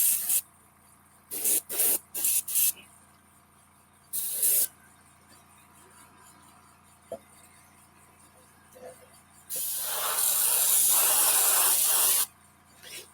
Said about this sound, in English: I'm going ahead and spraying it that color